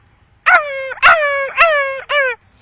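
A performer's voice imitates a spotted dog yelping after being hit by a stone, four sharp, loud yelps in quick succession, close and clear on a school arts festival mimicry stage.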